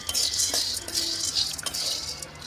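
Peanuts roast in a kadai while a metal ladle stirs them, giving repeated scraping sweeps and light clinks against the pan in a quick, uneven rhythm, close and fairly loud with no talking.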